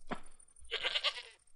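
A goat in Goat Petting Simulator gives a short, close bleat, pauses, then lets out a longer wavering bleat, with no other sounds.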